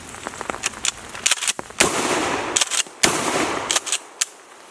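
Rapid rifle shots from a Troy A4 firing Remington ammunition, loud sharp reports in irregular clusters with brief gaps, some shots close together, outdoors with no speech.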